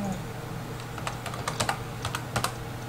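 Keystrokes on a computer keyboard entering a number, a quick irregular run of close, crisp clicks in small bursts over a low steady hum.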